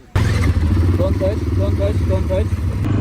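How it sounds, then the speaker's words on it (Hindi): Motorcycle engine runs steadily with a low, continuous rumble at close range while a person talks over it throughout, heard during an off-road ride. "आज फिर मोटरसाइकिल चला रहे हैं"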